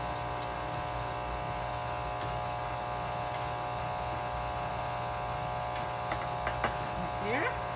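An electric mixer whirs steadily through red velvet cake batter, a constant close buzzing hum with a few light clinks near the end.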